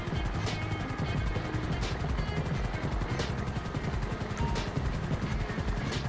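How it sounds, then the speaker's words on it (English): A police helicopter in GTA 5 hovers close and loud, its rotor beating in a steady rapid thump over a constant engine whine, with no voices. "Yeah, the chopper still didn't go down yet."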